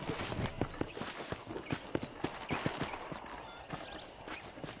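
Horse hooves clip-clop in a steady walking rhythm in Red Dead Redemption, close and fairly crisp, continuing throughout with no voices.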